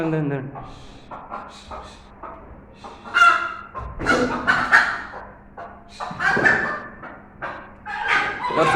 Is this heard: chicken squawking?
yes